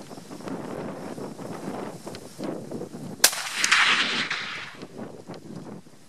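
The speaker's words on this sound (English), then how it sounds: "we'll follow it up with two more rounds of the Parker Match Hunter and see what happens" A Remington Model 700 Ultimate muzzleloader rifle fires a single Parker Match Hunter bullet: one sharp, loud report midway through, followed by a rushing decay. Wind buffets the microphone throughout.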